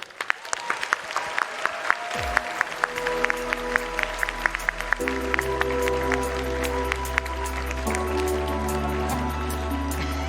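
An audience at the TwitchCon 2019 cosplay contest applauds needlework-category finalists on stage. A large crowd gives sustained, dense clapping with scattered sharp claps, and stage music with steady tones comes in beneath the clapping after a couple of seconds.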